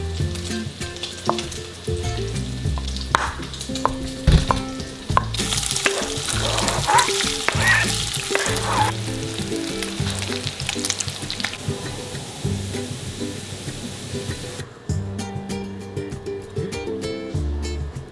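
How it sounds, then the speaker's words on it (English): Bacon and cut-up Spam fry in a pot with a steady, close sizzle, broken by scraping stirs and some running tap water in the background. "Go ahead and cook down your bacon and then add your cut up Spam."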